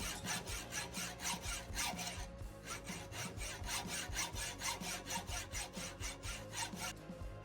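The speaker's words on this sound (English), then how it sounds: "And then I cut a piece of metal rod for the gear shaft." A metal rod being cut for a gear shaft, steady rhythmic back-and-forth sawing strokes, close and evenly paced, with a brief pause partway through.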